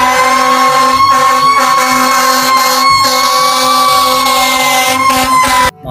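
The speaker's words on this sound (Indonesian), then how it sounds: "ini mobil pemadam kebakaran teman-teman" A toy fire truck plays its electronic siren, a loud steady wailing tone held close and continuous for several seconds, with no talk over it.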